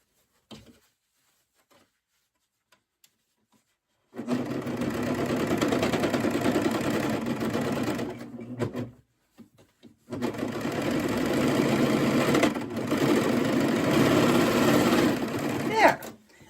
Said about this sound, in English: we've serged it all the way around